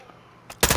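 Gunfire in Call of Duty Modern Warfare 2: a short faint shot, then a loud close burst of rapid automatic fire in the final moments.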